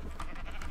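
A Minecraft sheep gives a short, close bleat in the game, one brief wavering cry over steady background game noise.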